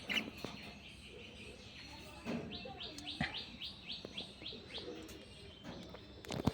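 Pet lovebirds chirp and tweet in a cage, with soft rapid trills, scattered calls and small rustles, faint and close.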